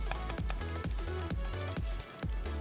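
Sharp clicks from a HyperX Pulsefire Fuse wireless mouse button repeat close up in an uneven rhythm, about seven in a row, over a steady low background hum.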